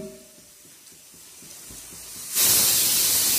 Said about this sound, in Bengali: 5 নম্বর সিটিটা হয়ে গেল।